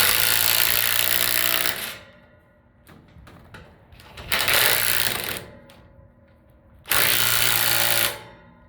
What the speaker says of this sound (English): you put your impact on the nut and you reverse it off